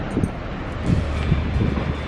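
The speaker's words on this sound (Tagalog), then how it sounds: "Medyo mahangin." Wind blowing outdoors in a parking area, buffeting the microphone in steady low gusts that rise and fall for about two seconds.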